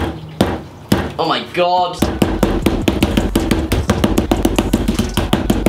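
Sharp metallic hammer blows strike an aluminium foil ball repeatedly at a fast, steady rhythm, close and loud, with a brief exclamation from a voice early on.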